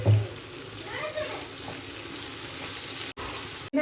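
Long-cut potato strips, lightly salted, sizzle as they fry in a pan. The hiss is steady and close throughout, with a brief clatter at the start and a faint voice now and then.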